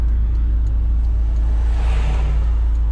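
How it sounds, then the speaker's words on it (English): A Honda S2000 fitted with a K&N intake drones steadily at low revs, its engine and road rumble loud and constant, swelling briefly as if the throttle opens, with no voices. "You get a great intake, great sounding intake, and you reduce the intake temperatures also"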